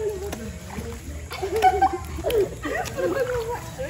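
Water splashes and sloshes in a resort swimming pool as people swim, loud and close, with voices and chatter throughout.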